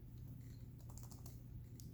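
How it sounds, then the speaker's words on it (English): Number being typed on a computer keyboard, a faint short run of light key clicks over a low background hum. "I'm going to go ahead and type this number in"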